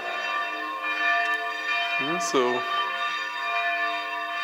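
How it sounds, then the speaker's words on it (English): Church bells ring at a wooden Orthodox church in Ukraine, a steady sustained ringing heard from nearby with a brief spoken word over it. "why he's ringing the bells?"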